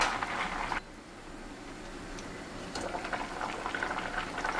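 Catfish pepper soup with parsley leaf bubbling in a pot for a Nigerian recipe, a continuous close boil with a brief quieter stretch in the middle before the bubbling rises again.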